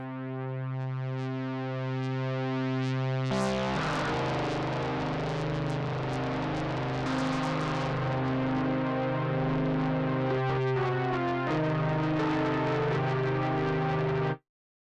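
A Helm synthesizer pad plays sustained, with a clean tone for a few seconds before distortion drive kicks in and thickens it into a gritty, buzzing texture that holds until an abrupt stop.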